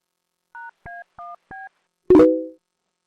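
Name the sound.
telephone dialing and dial tone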